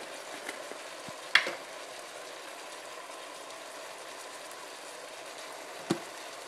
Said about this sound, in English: we'll continue to let the meat brown